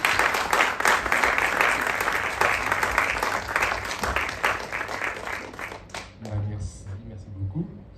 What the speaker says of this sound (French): Moi, j'aimerais bien entendre des applaudissements.